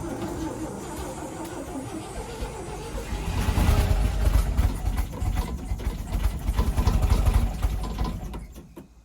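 1958 Chevy Delray V8 engine cranking, then catching and running rough for several seconds, loud and close, before cutting out near the end.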